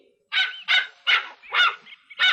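A dog gives five short, evenly spaced barks, fairly close and clear against a quiet background.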